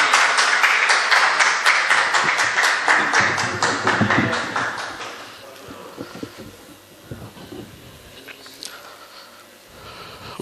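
Enthusiastic audience applause welcoming a poet at an Urdu poetry recital, loud rapid clapping for about five seconds that then thins out into scattered claps and faint room murmur.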